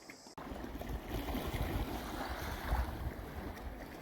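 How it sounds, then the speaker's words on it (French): Waves chop and a strong tidal current rushes through a narrow channel on Eleuthera in the Bahamas, a steady roaring wash mixed with wind buffeting, after a brief quieter start. "Ça fait des vagues à pic."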